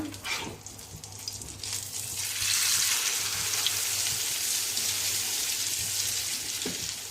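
A masala egg omelette fries in oil in a pan, giving a steady, close hiss of sizzling that swells after a couple of seconds and holds evenly throughout.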